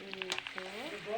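Fresh meat hits a hot pan and sizzles, with light crackles and small pops over a soft, steady frying hiss, while a voice talks faintly in the background.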